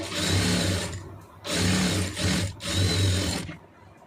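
A sewing machine stitches an armhole seam in three short runs of rapid, even whirring, each broken by a brief pause, close and clear with no talk.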